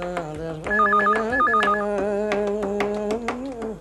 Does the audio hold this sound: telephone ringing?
yes